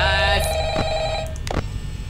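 An old-style telephone bell rings in the Five Nights at Freddy's horror game, a steady harmonic trill that holds clearly for most of two seconds, with short bursts of noise and movement layered over it.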